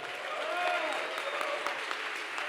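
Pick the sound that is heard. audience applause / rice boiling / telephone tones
audience applause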